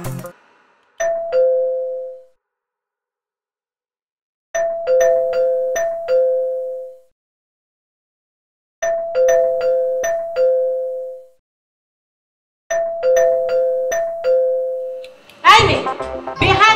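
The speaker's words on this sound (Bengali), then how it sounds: "বেহায়ের মতো কলিং বেল চাপছো কেন?" A household doorbell pressed repeatedly in a drama scene, ringing in four separate bursts of quick chiming tones with silent gaps between them, followed by a voice at the very end.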